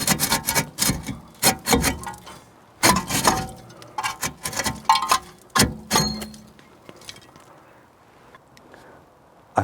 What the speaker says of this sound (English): I've cleaned the wheel hub with some sandpaper, got rid of all the dust.